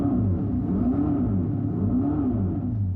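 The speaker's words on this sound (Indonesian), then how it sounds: "Ini terdengar seperti mesin mobil dan mungkin terasa seperti mesin mobil biasa." A Dodge Charger electric car gives off a steady, loud synthetic engine rumble that rises and falls smoothly in pitch, with no talking over it.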